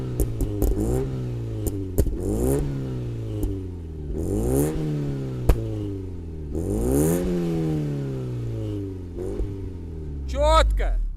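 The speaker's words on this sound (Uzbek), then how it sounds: "bitta dona vixlopno sistemani o'zida qanchalik mazza qiladigan ovoz qilsa bo'ladi" A Chevrolet Nexia 2 with a single exhaust system revs repeatedly nearby, each loud, throaty blip rising sharply then dropping back to a rumbling idle, with a few sharp pops between revs.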